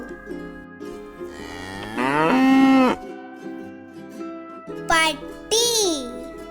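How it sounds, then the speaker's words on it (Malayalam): A cow moos in one long, loud, low bellow, followed by a couple of shorter higher calls, over quiet background music. "പശു"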